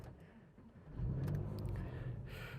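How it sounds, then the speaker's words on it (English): A cheap used Porsche cranking on its slow starter motor, a low grinding burr that swells loudly after a quiet first second and keeps churning close by with some faint clicks. "So it's got that slow starter motor burr."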